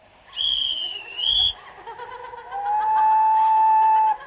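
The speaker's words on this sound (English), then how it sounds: "so I'll blow my whistle" A whistle blown in a 1965 BBC radio production of Elgar's The Starlight Express, giving two shrill, warbling blasts near the start, then a steadier, softer whistle tone later, with no talk over it.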